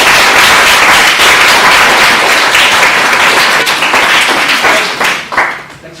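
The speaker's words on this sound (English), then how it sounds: "Let's go ahead and give the graduates a round of applause" Loud, dense applause from an audience honoring graduates at a graduation ceremony, steady sustained clapping that tapers off toward the end.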